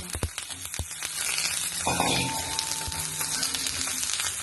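Steady sizzling as curd rice fries in a pan while mushroom green biryani is being cooked, a continuous crackling hiss with a few sharp clicks and stirring knocks, fairly close and alone.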